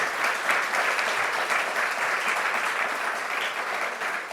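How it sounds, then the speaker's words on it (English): A roomful of people applauding speakers after a geopolitics panel session, dense continuous clapping at moderate loudness that swells slightly and tapers toward the end, with no voices. "join me please in a big applause to our speakers."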